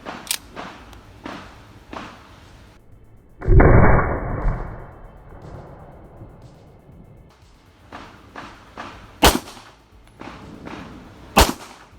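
Several sharp, loud shots from a Taurus PT92 pistol at a shooting range ring out with long gaps between them, along with a burst of rushing noise partway through.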